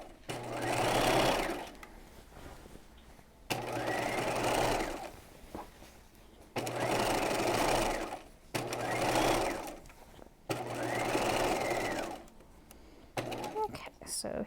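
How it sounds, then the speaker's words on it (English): A sewing machine stitches around the neckline of an apron dress in four separate bursts of rapid, close mechanical chatter, with quiet pauses between as the stitching stops and restarts at the strap corners. "I'm going to have to stop around the corners where the straps are and start stitching again"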